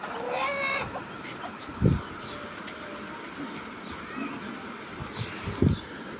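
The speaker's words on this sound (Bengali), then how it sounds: "মাশাল্লাহ দিলে সব মুরগি টুরগি সবই ছাড়া" Chickens cluck now and then in an open outdoor space, with a low thud or two and faint background murmur.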